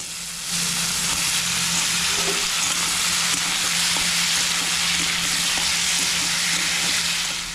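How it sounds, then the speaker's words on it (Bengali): Potatoes and mushrooms frying in hot oil in a pan, a steady loud sizzle with scattered soft scraping and stirring clicks throughout, no talking. "মাশরুমগুলো দেওয়ার পরে বেশ ভালো করে নাড়তে হবে"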